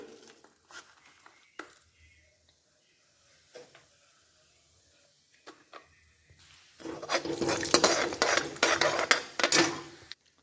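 Ajwain, cumin and mustard seed roast in a hot pan, starting with faint scattered ticks and pops before a louder stretch of sizzling, scraping and clattering as the spices are stirred.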